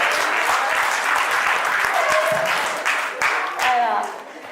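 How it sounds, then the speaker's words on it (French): Crowd at an anime convention event in Evry applauding, dense clapping with voices cheering over it that fades toward the end. "on l'applaudit pour ça, hein, s'il vous plaît"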